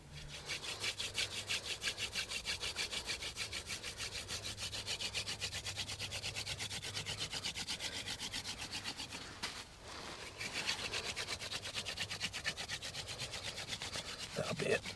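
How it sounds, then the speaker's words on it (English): A wooden hand drill spun between the palms against a fireboard to make fire by friction, giving a steady, rhythmic scraping rub that keeps going with only a brief pause partway through. "going to make fire the traditional way with the hand drill to start our fire"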